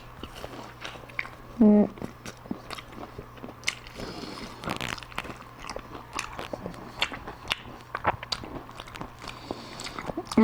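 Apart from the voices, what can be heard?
eating homemade ngohiong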